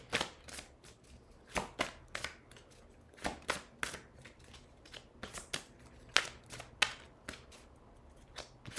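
Oracle and tarot cards being shuffled by hand, a series of close, crisp riffling and flicking bursts separated by short pauses.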